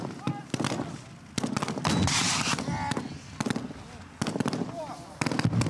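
During military training, grenade launchers fire repeated sharp, loud blasts in irregular bursts, with voices talking between shots.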